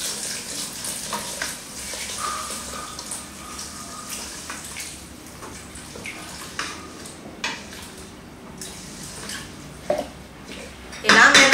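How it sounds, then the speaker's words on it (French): Water poured into a rice cooker holding chicken and rice, a continuous splashing pour close by with light clinks of pots and utensils around it. "Et puis, je rajoute l'eau."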